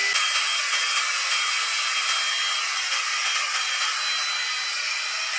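A hair dryer blows a continuous, loud rush of air during a hair blowout. The hiss stays even and steady throughout, with no talking over it.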